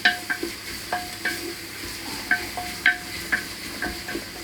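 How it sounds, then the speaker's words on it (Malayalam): Spiced beef and onion stirred in a hot pan, with a sizzling bed broken by repeated sharp spoon scrapes and knocks against the pan at an uneven pace, no talking. "ഇനി അത് നന്നായിട്ട് ഇളക്കി കൊടുക്കാം"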